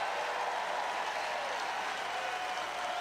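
An audience applauds in a continuous, dense wash of clapping that stays loud and even throughout, with no voices over it.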